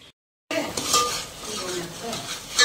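Idlis lifted out of a steaming vessel with an oiled knife: after a brief silence, soft scraping and clinks of metal against the pot run continuously, with a sharper clatter near the end.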